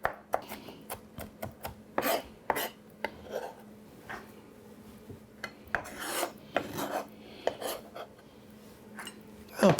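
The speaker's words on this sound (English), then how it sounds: "And we're just going to chop these." Soaked jalapeno peppers being chopped with a teaspoon or tablespoon, giving a series of irregular, scraping, rasping strikes at close range with brief pauses between them.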